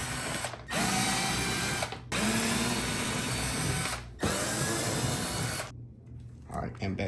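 A power drill backing screws out of a Power Wheels Corvette ride-on toy, with four loud close whirring bursts separated by brief pauses, then quieter clicking handling noises.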